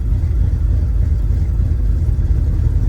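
A 1970 Chevrolet Nova with dual exhausts, a built Turbo 350 transmission and a B&M shifter is being driven, giving a loud, steady low rumble of engine and exhaust from inside the car.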